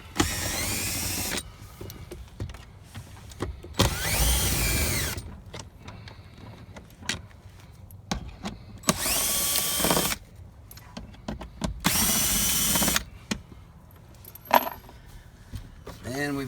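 Power drill removing T15 Torx screws from a GMC Sierra or Chevy Silverado glove box, several short loud whirring bursts separated by quieter handling and rattling.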